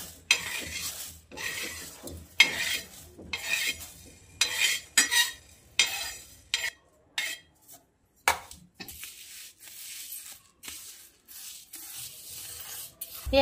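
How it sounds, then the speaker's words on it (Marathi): Horse gram roasting dry in a pan while a spoon stirs it, giving a series of close, repeated scraping and rattling bursts with short pauses between, and no talking. "मस्त लाल भाजून घ्यायचं हुलगं, म्हणजे चव येते त्याला मस्त नाही का भाजल्यावर."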